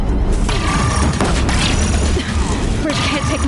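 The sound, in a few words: explosions from Deathbringers firing on a bridge, from a video game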